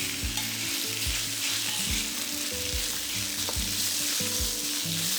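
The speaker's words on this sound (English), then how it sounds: "When the oil is hot, put in your pork belly." Pork belly sizzles steadily in hot oil in a pan over medium heat, a loud, dense, continuous frying hiss that fills the whole stretch without pause.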